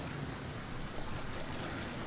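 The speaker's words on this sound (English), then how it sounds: "Oh god, it's raining." Steady rain in the survival video game Flame In The Flood, a constant dense hiss of falling drops that fills the whole short stretch at low level with no voices.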